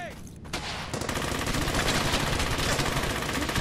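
Sustained machine gun fire in the WWII shooter Brothers in Arms: Hell's Highway, a dense, continuous burst of rapid shots that kicks in after a brief lull and carries loud and close for the rest of the clip.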